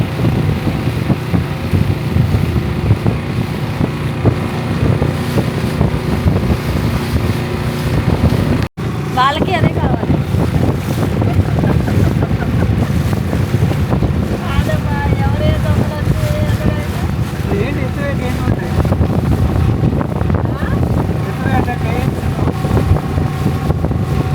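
A motorboat cruises back across the Karaikattu backwaters in Kerala, its engine droning steadily under loud wind buffeting, with people talking faintly.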